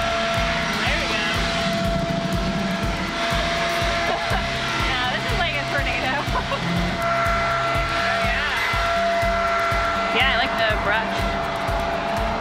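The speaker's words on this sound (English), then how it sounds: "We're gonna test this blower." A WORX AIR cordless blower runs continuously, giving a steady, fairly loud airy whine with a constant rushing hiss throughout.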